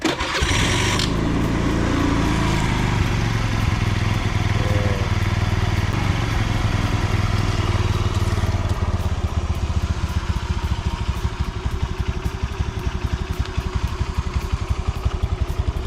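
A 2012 Honda Beat 110 carburetted scooter engine is started, catching after a brief crank and settling into a steady, close putter of idle that runs throughout with no talking.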